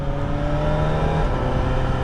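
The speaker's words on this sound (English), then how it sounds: "the quick shifter on this bike is really good" A 2023 Suzuki GSX-S1000GT motorcycle engine runs loud and close under steady throttle, a continuous droning roar as it pulls through gears with the quick shifter.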